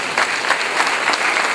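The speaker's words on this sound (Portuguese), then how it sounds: "Aplauda o Senhor por isso." A church congregation applauding, a brief burst of dense, lively clapping from many hands, loud and close, filling the whole moment.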